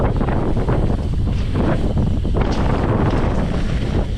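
Strong wind buffets the microphone while a rider rolls down a freeride trail. A dense, roaring blast of wind noise fills the whole stretch, loud and unbroken, with no other sound breaking through.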